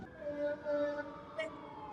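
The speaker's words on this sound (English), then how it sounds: "I'm waiting for the sirens." A steady wailing siren with a sustained tone, heard at a moderate distance, with no talking in the clip.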